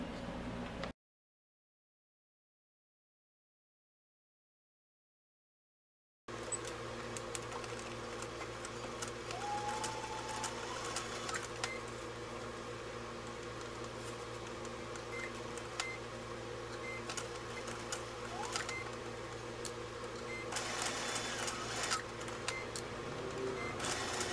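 A sewing machine running a steady, continuous mechanical whir while stitching around the curve of an oven mitt, close and fairly quiet, after a short silent gap at the start, with no talking.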